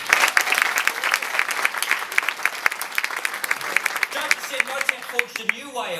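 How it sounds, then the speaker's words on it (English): Awards-ceremony audience at a New Zealand museum awards event applauding steadily, dense clapping filling the room, fading toward the end as a voice begins speaking over it. "A round of applause for them."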